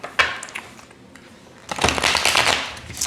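A deck of cards being shuffled by hand during a reading: a few quick riffles and flicks, then a longer, louder run of rapid papery shuffling, close up with no talk.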